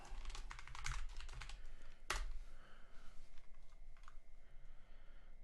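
Quick, quiet keystrokes on a computer keyboard come in a fast irregular burst as a password is entered, with one sharper click partway through and faint room hiss behind.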